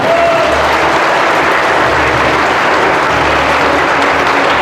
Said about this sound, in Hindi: उनके लिए जोरदार तालियों से अभिनंदन और स्वागत